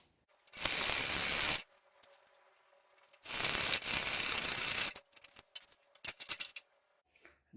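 Pilot holes being drilled for a homemade toilet paper holder: two loud bursts of drill whine, each about a second long, separated by a pause, followed by several short clicks and taps.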